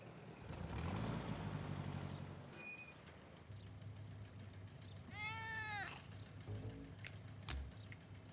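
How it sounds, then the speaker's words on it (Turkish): A cartoon cat shut in a carrier lets out a single drawn-out meow midway, faint over a low background rumble with a few soft clicks. "Gilbert'ın kuyruğunu görebiliyorum. Yaramaz kedi Gilbert"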